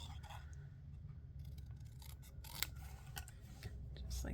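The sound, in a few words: paper being trimmed with scissors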